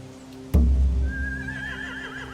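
A horse whinnies in The Walking Dead video game, final season: a heavy thud and low rumble come first, then a high, wavering neigh rises and trembles for over a second against a steady background hum.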